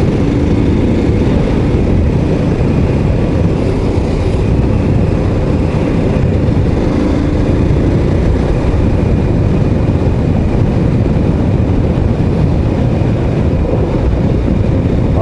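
Royal Enfield Scram 411 motorcycle engine on a ride in the Vosges, constant droning rumble buried in heavy wind noise, loud and unbroken for the whole stretch, no voices.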